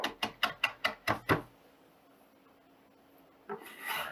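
A knife chops citrus zest finer on a cutting board in a kitchen: about seven quick, evenly spaced, crisp chops, then near silence and a brief soft rustle at the end.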